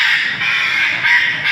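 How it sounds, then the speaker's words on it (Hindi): A parrot at a Karachi zoo wildlife centre gives a loud, harsh, sustained screech close to the microphone as it is brought out of its cage, with no talking over it. "तोता आ रहा है"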